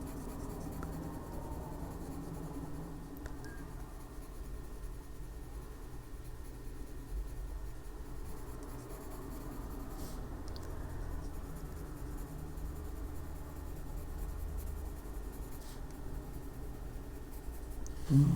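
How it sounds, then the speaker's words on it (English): Colored pencil lightly shading on paper to add shadow to a hat in an adult coloring book, a steady soft scratching that continues without a break for the whole stretch, close and quiet with no talking. "We're going to just use the pencil lightly doing that and shadowing it."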